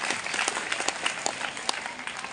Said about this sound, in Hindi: तालियां जोर से